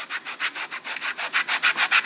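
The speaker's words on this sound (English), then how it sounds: "you just keep sanding until it mates flat across there" Balsa wood part of a Ripmax/Keil Kraft Senator model aircraft being sanded, about sixteen steady back-and-forth rasping strokes in an even rhythm, close and alone.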